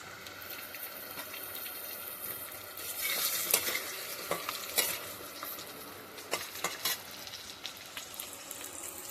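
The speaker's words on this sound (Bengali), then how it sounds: "এবার আমরা পটলটাকে হালকা ভেজে নেব।" Pointed gourd (potol) fries lightly in a pan with a steady oily sizzle, broken by scraping and clinking as the pieces are stirred.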